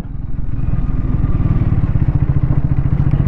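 A liquid-cooled 150cc motorcycle engine running, a loud close pulsing thrum with an even rapid beat that holds steady throughout, no speech.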